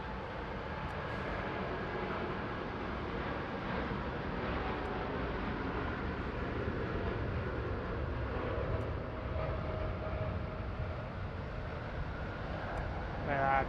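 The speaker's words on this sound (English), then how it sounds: "Nice long takeoff roll." Airliner on its takeoff roll at Sydney Airport, a steady, broad engine roar that holds at a constant level for the whole stretch, heard from a distance with a slight swell toward the end.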